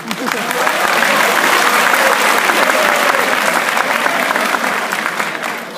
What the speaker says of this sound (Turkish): Acaba alkışlasak mı? Başladık ama.